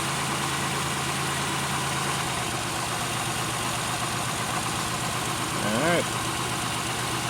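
A Pontiac Aztek engine, showing a P0172 rich-condition code, idles during a cylinder test with a steady, close low hum and slight vibration, while a voice speaks briefly near the end.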